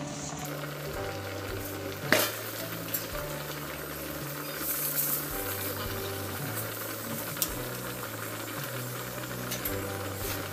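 Radish-stuffed paratha fries in oil on a pan with a steady, close sizzle, while a low rhythmic hum or rattle runs underneath and a sharp clack sounds once early on.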